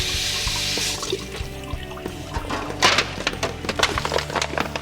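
Tap water runs steadily from a faucet while a turkey is washed in a sink, with the close, fairly loud flow broken by splashes and knocks as the bird is handled.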